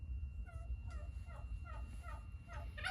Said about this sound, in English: Turkeys approve, I can hear in the distance.